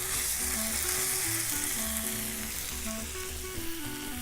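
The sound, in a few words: stuffed beef fillet searing and sizzling in a pan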